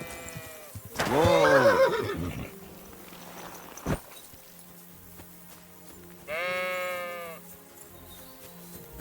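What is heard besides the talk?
sheep bleating in video game Kingdom Come Deliverance 2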